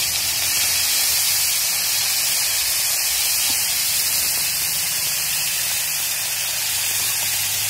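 Food frying in a pan over a low gas flame, a steady bright sizzling hiss that runs unbroken and fairly loud throughout, with no talking over it.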